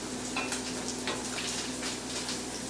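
Onions and garlic fry in a pan for paella, giving a steady, close, soft sizzle with faint crackles throughout and no talking.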